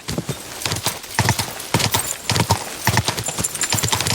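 Horse hooves clip-clop at a quick, steady gait in the video game Kingdom Come: Deliverance II, with loud, close, rhythmic clopping throughout.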